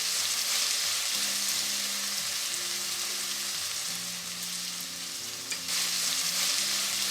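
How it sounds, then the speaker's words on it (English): Onions hit hot oil with spices for a restaurant-style chicken biryani, giving a loud, steady, even sizzle that continues without a break, with a low hum running underneath and no voices. "you're ready to drop those onions into the oil"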